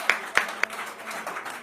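Audience at a Hindi kavi sammelan applauding to welcome poet Sandhya Tripathi; a few sharp, close claps stand out early, then a softer, thinner patter of clapping continues underneath.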